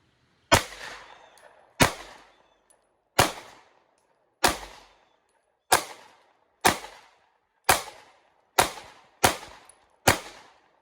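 Ten sharp pistol shots from a Taurus G3C or G2C, fired one at a time at a steady pace of roughly one per second, each loud crack followed by a short decaying echo, with no talking.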